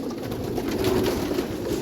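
Pigeons on a modern pigeon farm give a soft, low, continuous cooing that sits close and steady over a brief stretch, with no speech.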